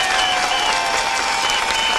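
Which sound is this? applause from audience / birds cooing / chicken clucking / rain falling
applause from audience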